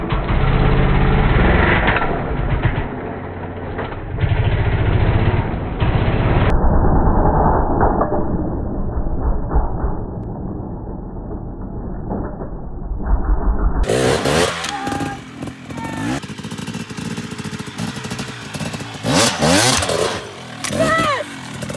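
A dirt bike engine revs and blips while the rider works the bike over a log, loud and close with rising and falling throttle bursts, mixed with wind and rattling from the ride.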